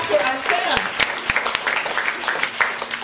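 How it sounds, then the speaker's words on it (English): An audience at a Philippine political talk bursts into applause, a dense patter of clapping that carries on under a speaker's voice. "Let us clap for ourselves."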